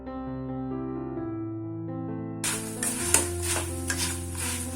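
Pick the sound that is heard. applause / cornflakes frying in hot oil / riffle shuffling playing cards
cornflakes frying in hot oil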